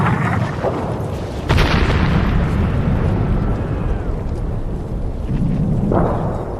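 Shell fire in a WWI battle scene, a dense, rumbling roar of distant explosions and booms rolling continuously, with a sharper blast partway through.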